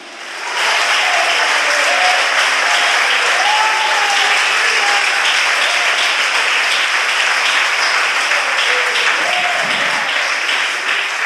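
A church congregation applauds loudly and steadily, a dense wash of clapping that begins abruptly and holds for about ten seconds, with faint voices and some sustained tones beneath it.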